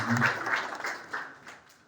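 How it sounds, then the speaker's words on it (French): Congregation at a church wedding service applauding a singer, a short burst of clapping that swells early and then tapers off, with voices mixed in. "On applaudit l'artiste là chaudement."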